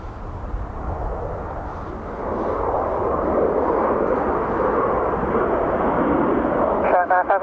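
An Airbus A330 airliner departing Dublin Airport for Las Vegas, its jet engines giving a broad, steady roar that swells louder partway through and holds at full strength to the end.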